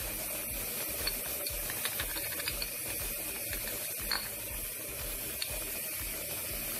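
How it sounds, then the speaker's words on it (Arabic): A pressure cooker on a Moroccan kitchen stove, cooking meat with prunes, hisses steadily with a fast continuous rattling of its valve throughout, loud and close with no talking. "هداك الحلة ديال الضغط هي اللي كدير هاد الصوت أو الكوكوط"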